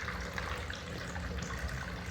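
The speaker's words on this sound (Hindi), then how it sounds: "और डालो भी पानी।" Water poured out at home, a steady splashing, trickling wash that runs continuously and fairly close throughout, with no talk over it.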